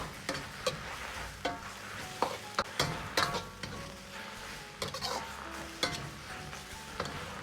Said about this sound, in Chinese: 然后倒入控干水分的白菜翻炒